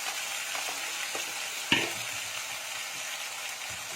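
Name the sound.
ginger-garlic paste sizzling in hot oil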